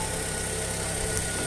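A Fiat Uno Vivace engine, one with a vibration and a strange noise at the front, runs at a steady idle, a close, constant mechanical hum and whine without change or talk.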